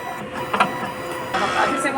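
A sublimation printer runs a head clean cycle, whirring with mechanical clicks and shifts in motor pitch while a person talks over it.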